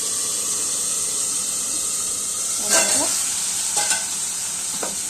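Cooked toor dal hits a sizzling onion and garlic tadka, a steady hiss of hot oil with a few brief bursts and spatula scrapes near the end, close and even.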